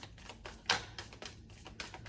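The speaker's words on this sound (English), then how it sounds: "I'm just shuffling up these decks again so that they're ready for the" A deck of tarot cards is shuffled up close in quick, repeated papery riffles and snaps, with a sharper flick near the start and no talking.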